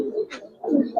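Giribaz and coloured fancy pigeons coo at a pigeon farm, a few close, soft throaty coos in short bursts with a brief bird chirp between them.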